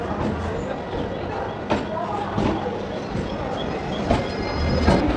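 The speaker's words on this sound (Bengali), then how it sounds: "ট্রেন এক্ষুনি ঢুকে পড়বে।" A Namkhana local train pulls in at Sealdah station platform, with a steady loud rumble of wheels and carriages, occasional clanks and brief squeals, and voices heard over the noise.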